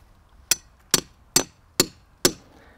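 Five sharp, evenly spaced hammer strikes drive a wood chisel into a tree trunk, each a crisp ringing knock against quiet background.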